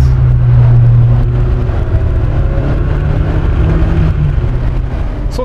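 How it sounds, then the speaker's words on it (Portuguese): Lotus Elise Sport 220, a light sports car, driving along a narrow secondary back road, its engine a steady, loud low drone throughout with slight rises in tone and no talk. "Numa estradinha secundária destas, um carro leve, com um motor equilibrado, é mais que suficiente."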